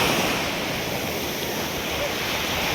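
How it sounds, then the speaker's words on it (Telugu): Ocean surf rolls continuously at Srinivasa Satram beach near Nellore, a dense, steady roar of breaking waves with a windy hiss and no clear pauses. "ఈ బీచ్ పేరు వచ్చి శ్రీనివాస సత్రం బీచ్ అన్నమాట."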